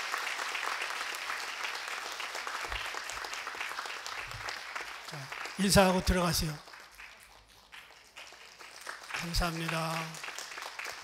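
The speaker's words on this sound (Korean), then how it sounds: "여러분 박수로 환영해 주시면 감사하겠습니다" A church congregation claps during an Easter Sunday service to welcome newly baptized infants and young children, steady applause that continues as someone speaks over it with brief amplified voice bursts.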